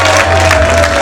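Audience at a pin-up contest show applauds the contestants, a brief burst of dense, loud clapping with a faint murmur of crowd noise.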